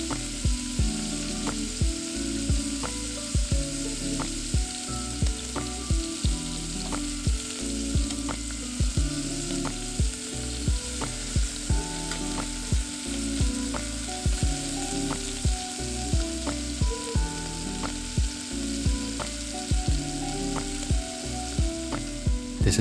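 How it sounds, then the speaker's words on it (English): Beef searing in oil in a pan sizzles and fries continuously, with regular scraping and stirring ticks from a utensil at a steady rhythm, close and fairly loud, no talking. "I'm searing the beef in some oil until they get nice and golden brown"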